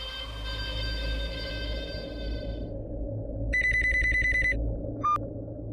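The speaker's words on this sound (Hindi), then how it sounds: "मुझे गौरी को फोन करना चाहिए।" An electronic telephone ring warbles in a couple of bursts over a low rumbling background, with a brief chirp near the end.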